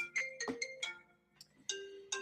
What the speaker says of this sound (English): Phone call and everything coming in.